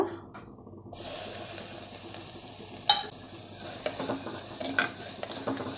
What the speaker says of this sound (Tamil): இந்த நெய்யிலே வந்து நம்ம துருவி வச்சு கேரட்டை போட்டுடலாங்க